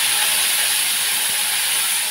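Tomato paste hits hot oil in a pan and sizzles in a loud, even hiss lasting a couple of seconds.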